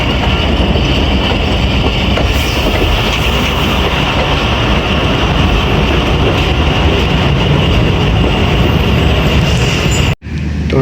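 Jaffar Express thundering through Dhonkal railway station on the through line, a loud continuous rush of wheels and rail rumble with faint squeal, ending abruptly.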